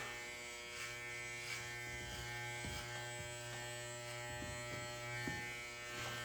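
Electric hair clippers buzz steadily through a late-night haircut, a close, continuous whine with slight shifts in pitch as they move through the hair.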